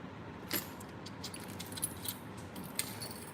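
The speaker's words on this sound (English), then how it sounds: "Let me grab the keys of that car." Keys to a 1984 Porsche 944 jangle faintly in a few brief metallic clinks and rattles against a quiet background hiss.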